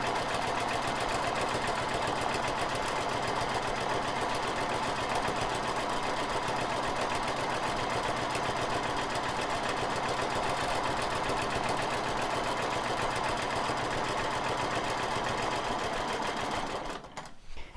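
A sewing machine quilting mandala patterns runs at a steady, continuous hum close to the mic for most of the clip, stopping abruptly near the end.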